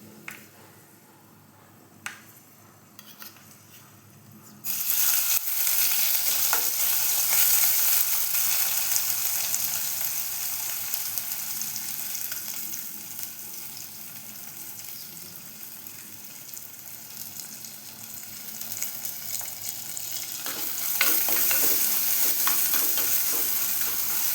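Garlic, ginger and shallot paste hits hot oil with popped fenugreek seeds for a homestyle fish curry, erupting into a loud, steady, close sizzle that carries on for about twenty seconds after a quieter start.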